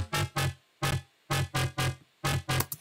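Dry Serum synth patch with no effects, played as short, punchy, buzzy stabs in a choppy rhythm with brief silences between hits, loud and alone.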